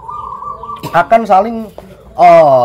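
A zebra dove's steady, low cooing note opens, followed by bursts of louder, harmonic calls, close and clear.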